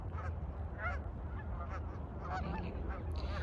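Many geese in a large flock honk at once in a dense, continuous chorus, with repeated calls layered over a low steady background rumble, in Colorado.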